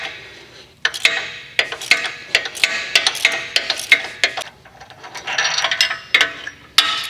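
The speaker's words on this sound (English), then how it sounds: "Now we're going to remove the lower front sway link bolt with an 18mm." An 18mm ratcheting wrench clicks in quick irregular bursts while loosening the lower front sway link bolt on a Jeep Wrangler JL, sharp close pawl ticks separated by short pauses, no talking.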